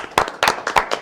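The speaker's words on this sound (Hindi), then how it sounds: "तो सबसे पहले इनके लिए ज़ोरदार तालियां चाहूँगा" At a press meet for a web series, a few distinct, loud hand claps ring out close by in a quick, uneven rhythm over about a second, as scattered applause rather than a full crowd.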